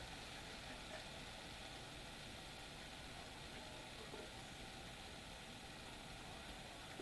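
An engine idles in a low, steady drone that holds unchanged and fairly faint from start to finish, with no voices over it.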